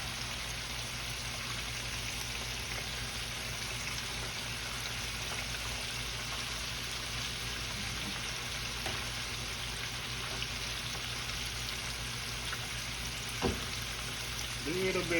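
Spicy buffalo shrimp deep-frying in hot oil give a dense, even, rain-like sizzle that holds steady throughout, with a brief clink near the end; a voice is faintly present.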